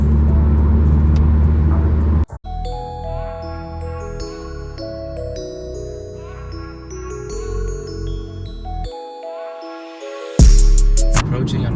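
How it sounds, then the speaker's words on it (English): A 2001 Mitsubishi Eclipse drives with a low engine rumble inside the cabin, overlaid by music playing and a short drop in sound near the end. "Driving my 2001 Mitsubishi Eclipse."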